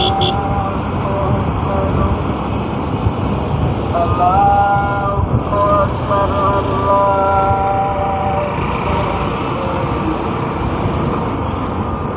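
A 125cc motorbike rides along a road near Mymensingh with a CNG auto-rickshaw and other traffic behind. A continuous rumble of traffic and wind carries through, and several tonal horn toots sound in the middle stretch.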